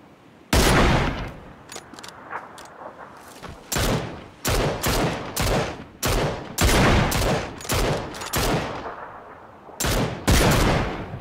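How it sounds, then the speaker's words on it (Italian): Sniper rifle shots from the battle royale game PUBG crack out close and loud, some single and some in quick clusters, with short gaps between bursts across the stretch. "ci spara col cecco quel tizio all'albero"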